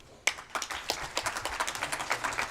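An audience at a C20 India working group conclave valedictory event breaks into a round of applause, with a crowd of hands clapping at a steady, close, moderately loud rhythm.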